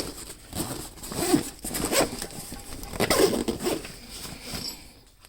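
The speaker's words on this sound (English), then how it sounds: "Whole kit zips up relatively easily." A zipper is drawn around a chainsaw kit bag in several quick, uneven pulls. The rasping bursts come close up and fairly quiet, with no talking.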